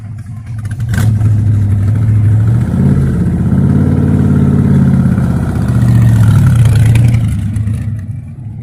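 Cruiser cars at a June car meet rumble nearby, a deep idle rising into a long throaty rev, easing back down, then swelling again before settling, loud and close with no talk over it.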